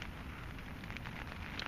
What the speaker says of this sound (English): rain's picking up and the wind again